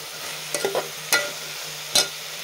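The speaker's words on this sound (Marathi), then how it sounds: "तर आता आपण ह्याला छान असं 1 ते 2 मिनटं परतून घेऊयात म्हणजे सगळा मसाला आहे तो मिक्स होईल" Spiced Maharashtrian masala rice being sautéed in a pan, with a steady low sizzle and a few sharp spoon scrapes and taps against the metal, close and clear with no talking.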